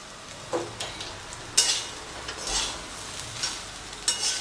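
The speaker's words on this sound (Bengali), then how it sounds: "আর দিচ্ছি খানিকটা কারি পাতা।" Curry leaves and lemon juice go into frying lemon rice, giving a faint steady sizzle broken by several bright spitting bursts and soft stirring clinks, close by.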